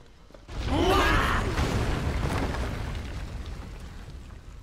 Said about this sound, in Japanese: 爆発止まらねえな。